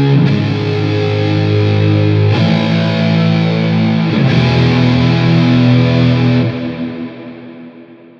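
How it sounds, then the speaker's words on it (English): Big ambient electric guitar chords played through a Big Sky reverb pedal on a swell setting, routed via a Mastermind PBC switcher; loud sustained distorted chords re-struck about every two seconds, each swelling into a wash that fades at the end. "I'm also utilizing the Big Sky reverb for this on a swell reverb setting"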